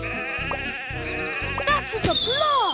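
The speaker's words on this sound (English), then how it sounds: "Sheep have wandered onto the tracks. Help by dragging them back in." Cartoonish sheep in a children's train video game bleat several times in quick succession over light background music, close and clear.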